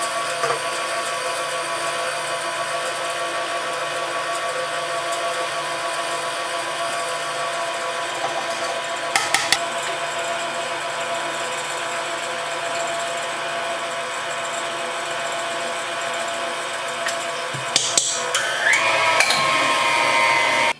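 Electric mixer beating batter for a cream roll, a steady, close motor whir with a rattling edge that runs continuously, broken by a few brief clattering bumps of the beaters.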